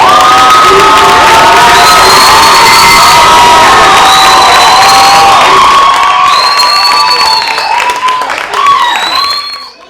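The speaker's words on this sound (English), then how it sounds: "Stand up so that we can give you a round of applause." Loud cheering and shouting from an audience at a youth poetry competition, with high voices whooping over steady applause for the finalists, sustained throughout and fading slightly at the end.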